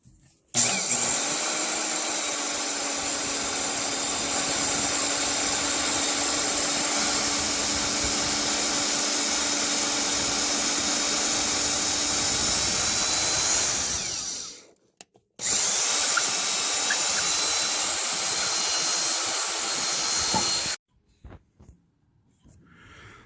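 A Hole Hawg heavy-duty drill boring through a truck frame for a winch mount, a loud sustained high-pitched whine running about fourteen seconds, a brief stop, then a second shorter burst before cutting off.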